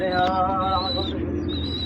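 Pigeons, including males, coo in low, rolling murmurs throughout a pigeon loft, with a steady background of higher chirps and a faint continuous whistle-like tone.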